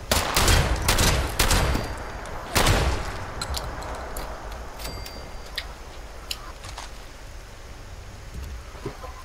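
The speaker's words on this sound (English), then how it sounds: "Getting shot! I'm getting shot!" Gunfire in the video game Fallout 76: several loud, sharp bursts of shots in the first few seconds, then sparser, fainter pops over a steady crackling background hiss.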